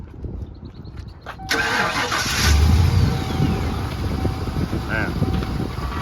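A 1993 Ford SVT Lightning pickup's engine cranks briefly and catches, then settles into a steady, close idle with a slight rev.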